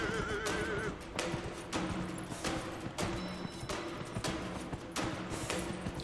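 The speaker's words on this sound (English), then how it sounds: "This is the slowest horse gallop I've ever experienced." A horse gallops during a race in Dragon Age Inquisition, its hooves pounding in a steady, driving rhythm of repeated clip-clop beats, loud and close, with an occasional whinny over continuous game noise.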